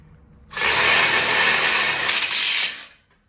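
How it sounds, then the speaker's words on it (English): Power drill driving screws into a metal outdoor pizza oven kitchen frame, one loud steady whirring burst lasting about two and a half seconds, close up and alone. "screw it in with 2 screws"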